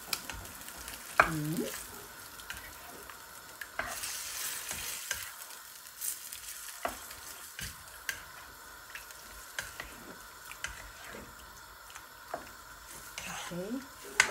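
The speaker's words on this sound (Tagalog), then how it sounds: "Okay, so haluin lang natin mabuti." A spoon stirs beef kaldereta in a pot with a soft simmering sizzle, marked by repeated clinks and scrapes against the pot, and quiet talk now and then.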